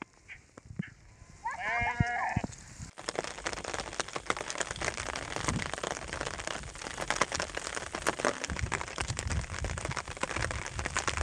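Goats and sheep grazing on a rainy hillside, with a single close bleat early on, then a continuous hiss of rain on the ground that carries on to the end.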